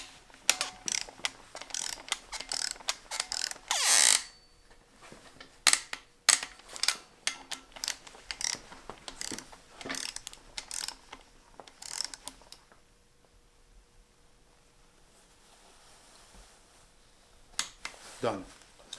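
An impact gun set to 16 foot-pounds tightening camshaft gear bolts, short loud mechanical bursts and clicks in the first half of the clip, then near quiet with a few soft knocks and a final burst.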